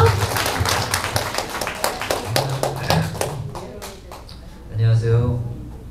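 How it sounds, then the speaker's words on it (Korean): An audience at a senior welfare centre's operations meeting claps steadily to welcome a speaker, a dense burst of applause that thins out before brief talk. "따뜻한 박수로 맞아주십시오."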